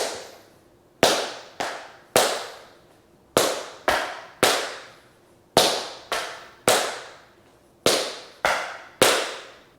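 Tap shoes strike a hard floor in a repeating three-beat pattern of spank, heel and step, sharp, close and ringing, with short gaps between each group.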